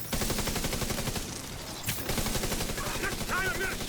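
Rapid automatic gunfire in the video game The Division during a legendary mission, loud, sustained bursts with fast rhythmic shots, a brief whoosh midway, and faint game voices mixed underneath.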